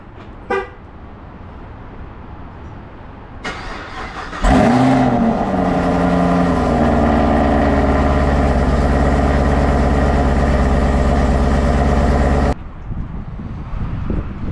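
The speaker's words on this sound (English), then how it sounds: "Can't start that video without a cold start." A supercharged Chevrolet Camaro ZL1 cold start: a brief starter crank, then the engine catches with a loud flare and settles into a steady, high, close idle before cutting off abruptly.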